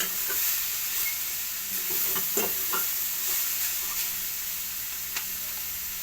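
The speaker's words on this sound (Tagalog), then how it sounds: "Gigisa muna natin siya kasi nilagay ko yung ganun natin." Vegetables being sautéed in a pan, a steady close sizzle with occasional stirring scrapes and faint pops, no talking.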